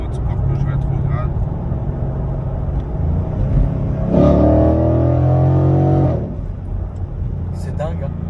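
A car engine roars up in revs for a couple of seconds while downshifting in sport mode, then drops back to a steady drone, with talking around it.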